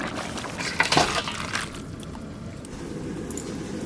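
Cooked tilapia curry tipped out of a pot, a short wet slosh and slide of food that fades into a quiet room.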